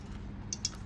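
Mustard seeds with a pinch of asafoetida hit hot oil for tempering, giving a couple of quick, sharp pops over a low, steady sizzle.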